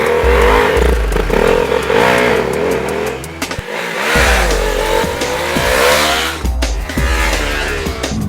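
A KTM 390 Duke motorcycle engine revs hard and repeatedly, rising and falling in pitch with loud throttle bursts and a brief drop to near quiet midway.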